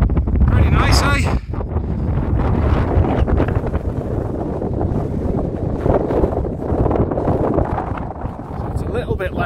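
Strong wind blasts across a Lake District fell summit near Wastwater, roaring and buffeting the microphone in loud rough gusts, with someone talking under it.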